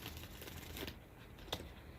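Tarot cards are shuffled by hand in a quiet room, a soft papery riffling and sliding with a sharper snap near the end, faint and brief.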